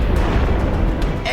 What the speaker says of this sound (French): Et on a déclenché la plus grosse explosion de l'histoire de Mythbusters.